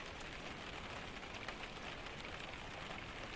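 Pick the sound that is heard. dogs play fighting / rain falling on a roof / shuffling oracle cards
rain falling on a roof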